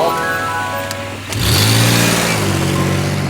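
A car engine roars steadily nearby, then surges louder as the vehicle passes close, its pitch shifting before settling into a sustained drone.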